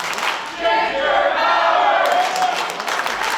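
A wrestling arena crowd cheering and rallying behind a wrestler, a loud, sustained roar of many voices with scattered clapping, near and continuous for a few seconds.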